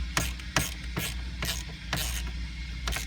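A ratchet loosening the 7 mm screws holding the radio in a 2018 Jeep Cherokee, giving a series of sharp rapid ratcheting clicks in about six quick strokes over a low steady hum, close and clear.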